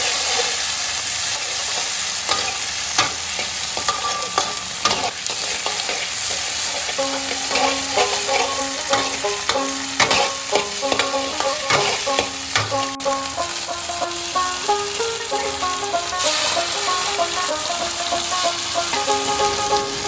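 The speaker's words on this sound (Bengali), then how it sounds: "পেঁয়াজ আর টমেটো কুচিটা খুব ভালোভাবে ভাজতে থাকবো।" Onion and chopped tomato fry in oil in a pan for a Bengali loitta (Bombay duck) fish bhuna. A close, continuous sizzling hiss with light stirring runs throughout, and music plays over most of it.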